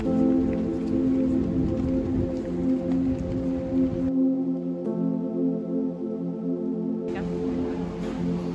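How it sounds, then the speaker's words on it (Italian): Steady rain pours in Halifax, a dense hiss of drops on surfaces that continues throughout, with a low background hum dropping out for a few seconds midway; no one speaks. "Halifax ci dà il benvenuto con una bella pioggia."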